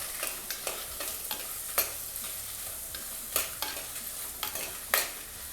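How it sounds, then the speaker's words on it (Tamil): Dried red chillies are sautéed in a clay pot for capsicum chutney: a soft sizzle with irregular scraping spatula strokes against the pot, close and fairly quiet, no voices. "இப்போ அதையும் நல்லா வதக்கிடலாம்."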